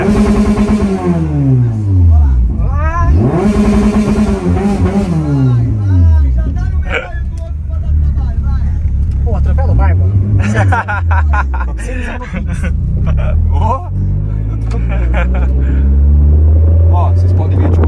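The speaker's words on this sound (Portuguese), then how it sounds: "ele faz o barulho do câmbio forjado, né? Mas parece um carro original, velho, andando tranquilo com ele." A Honda Civic Si fitted with a forged gearbox revs repeatedly, its engine note rising and falling in sweeping pulls, while people talk over it.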